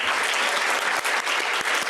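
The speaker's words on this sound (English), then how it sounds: "I hope we can all close us out with a round of applause as a good night" A closing round of audience applause at a peacebuilding panel event, dense, even clapping from a sizable crowd filling the room without a break.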